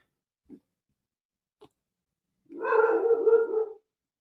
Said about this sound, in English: so that way my dogs wouldn't bark so loud for no reason